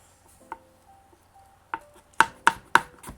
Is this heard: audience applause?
no